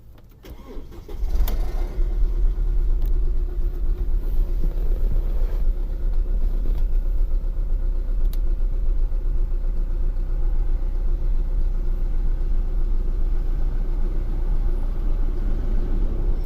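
A 2006 Audi A4 2.0T engine turns over and settles into a steady, rough idle with a low rumble, misfiring in cylinder 3, running alone without any talking.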